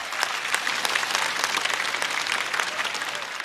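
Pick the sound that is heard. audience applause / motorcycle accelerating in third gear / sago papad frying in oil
audience applause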